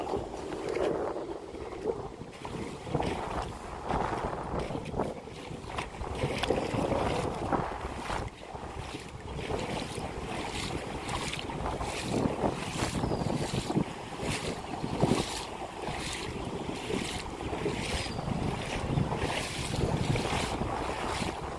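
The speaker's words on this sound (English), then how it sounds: "that wind is just blowing right at me" Outdoor wind gusting straight into the microphone at a fishing spot, a continuous loud, rumbling buffet that fills the whole stretch with no letup.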